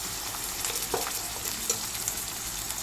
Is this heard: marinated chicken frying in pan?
yes